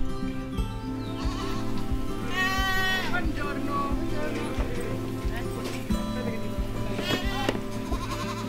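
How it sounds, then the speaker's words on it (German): A goat in a stable, suffering from an abscess on its left hind leg and a fever, bleats several times in wavering calls amid constant low farm background and occasional knocks. "Ich muss in den Stall. Eine Ziege hat Schmerzen."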